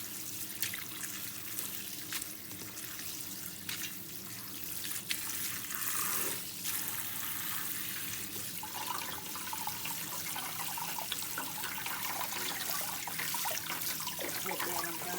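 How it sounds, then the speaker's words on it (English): Cold tap water runs steadily into a sink, splashing and trickling continuously with small shifts as sea moss is rinsed under the stream. "Cold water, I'm gonna give it another rinse."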